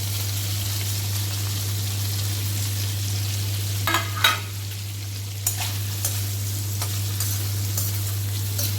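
Small paneer pieces sauté in a pan over a full gas flame, a continuous bright sizzle with occasional spatters and stirring scrapes over a constant low hum.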